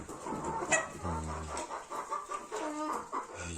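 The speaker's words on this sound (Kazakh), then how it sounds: "балапандарымыз жүз тауыққа жетіп қалған" A flock of around a hundred farm chickens, hens clucking and squawking in short overlapping bursts at moderate distance, with one longer drawn-out call in the middle.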